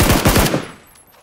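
A rapid burst of automatic gunfire in a video game rattles loud and close, then cuts off and fades into near silence within about half a second.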